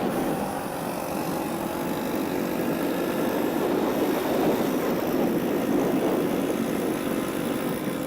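Motorcycle cruising along a road, a steady engine drone mixed with wind rush, constant and fairly loud with no voices.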